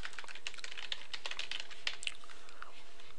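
Keyboard typing into a web search box, a steady run of quick, light clicking keystrokes heard close and at moderate level, with no talk over them.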